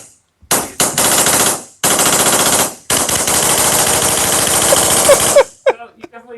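Tippmann Phenom X-7 paintball marker firing in long rapid bursts, a loud, dense stream of sharp pops broken by brief pauses, close and alone.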